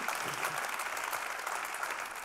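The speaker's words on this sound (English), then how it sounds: "A round of applause for Lou, please." Audience applause at a conference welcome session, steady dense clapping throughout without pause, moderately loud and even from start to finish.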